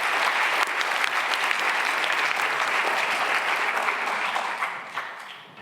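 Sustained audience applause fills a hall at an xTEF event in Berlin, dense and steady for several seconds before tapering off at the end, with no voices over it.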